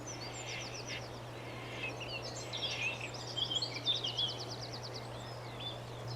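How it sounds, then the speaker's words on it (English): A reed warbler sings a scratchy, chattering run of rapid repeated notes by a river, faint and somewhat distant over a steady low background hum, with no talk. "This is the reed warbler."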